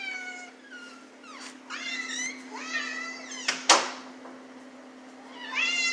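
Several rambunctious house cats meow repeatedly, rising and falling calls spaced through the stretch, with a brief sharp knock midway and a steady low hum underneath.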